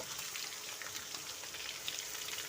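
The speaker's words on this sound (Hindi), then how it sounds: "ये अब हम इसमें डाल देंगे अपने टमाटर।" Tomatoes added to garlic already frying in a pan: a soft, steady sizzle with faint crackles and pops, quiet and continuous for a couple of seconds.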